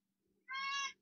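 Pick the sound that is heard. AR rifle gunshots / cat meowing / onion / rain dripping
cat meowing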